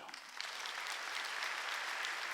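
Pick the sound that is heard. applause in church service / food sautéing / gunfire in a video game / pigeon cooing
applause in church service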